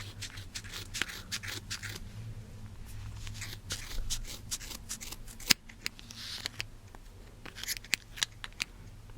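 Scissors snip through yarn wound on a Clover pompom maker, a run of short crisp cuts and clicks close up with light handling rustle between them, no talking.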